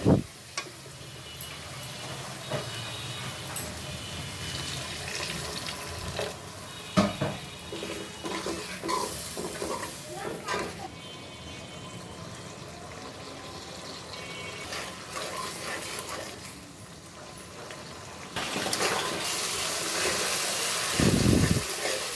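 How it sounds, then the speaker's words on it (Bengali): Water is poured into a pan of spiced dried fish curry. Faint splashing and trickling sit over low kitchen clatter, and a louder pour comes near the end. "আমি দিয়ে দিব আরেকটু জল"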